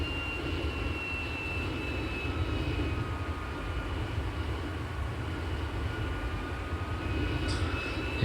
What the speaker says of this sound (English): Second engine starts as we speak.